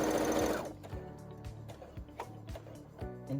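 Sewing machine stitching a T-shirt face mask, a short loud whirr followed by a run of quieter rhythmic stitching thumps, close and alone.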